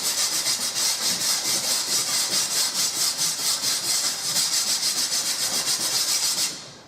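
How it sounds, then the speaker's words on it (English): A wire brush scrapes rapidly back and forth across a rusty metal surface, loud and close, with even rhythmic strokes throughout before stopping abruptly at the end, no voices. "I'm just going to wire brush the surface"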